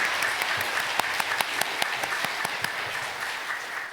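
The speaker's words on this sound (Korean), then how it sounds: "박수 올려드리겠습니다." Sustained crowd applause in a church service on Christmas Day after a Christmas cantata, a dense patter of many hands clapping steadily for several seconds without pause.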